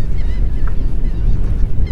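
Birds call over a Galveston, Texas marsh, with a brief honking call among steady rumbling wind noise, loud and close, no talk.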